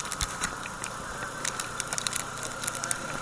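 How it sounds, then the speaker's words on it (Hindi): Steady rain while riding through Mira Road in Mumbai, a continuous hiss with scattered patter and crackle over a low engine rumble, no voices. "पर अभी भी कंटिन्यूस रेनिंग चालू है"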